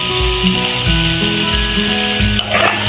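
Mushroom curry masala sizzles steadily in a hot pan while a spoon stirs it, giving a loud, continuous frying hiss with soft periodic scraping strokes close by.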